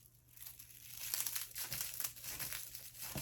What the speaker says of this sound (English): I'm gonna use this whole bushel and I'm gonna just cut it.